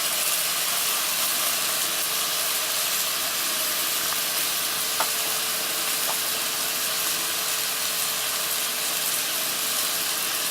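Beef and curry powder cooking in a pan give off a steady, even sizzling hiss that runs without a break, with only a faint click or two of stirring near the middle.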